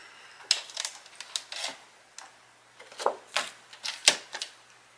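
Paper being trimmed with a cutting tool for a DIY sketch pad: a series of sharp, close clicks and scraping snips, irregularly spaced over a quiet background.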